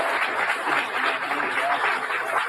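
Loud, steady applause from a large crowd fills the room as a speaker walks out to address them, a dense unbroken wash of clapping with no talk over it.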